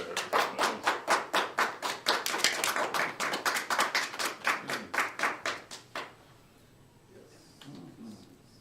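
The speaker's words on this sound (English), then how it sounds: "Let's have another round of applause for Rain Dog here." An audience applauds a poet at a reading in Long Beach, a burst of clapping lasting about six seconds with distinct individual claps, then fading out into quiet room tone.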